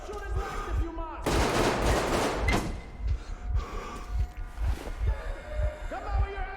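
Gunfire in Metro Exodus, a loud burst of shots that sharply cuts in and fades, followed by steady thudding footsteps and clanks.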